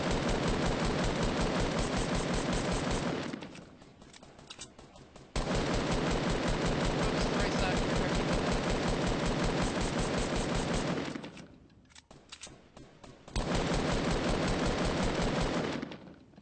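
Rapid automatic gunfire from the Fortnite battle royale video game rattles out in two long sustained bursts, loud and close, separated by a brief lull near the middle, with no talking.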